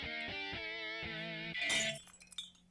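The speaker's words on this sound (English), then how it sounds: "The sound effect too for the shatter." Glass shatters in a video game trailer, a bright crash that bursts out over a sustained musical tone and then breaks into scattered tinkling fragments, loud and close with no talking.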